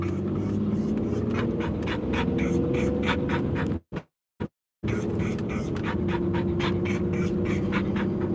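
Toby the dog pants rapidly and rhythmically close by on a Tuesday morning walk, the steady huffing interrupted by a brief silence midway before continuing, with faint voices in the background.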